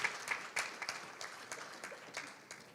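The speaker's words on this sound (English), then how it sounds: "Please give them a round of applause." Faint audience applause in a hotel hall during a lake symposium, a soft patter of claps with a few louder individual claps standing out, fairly distant.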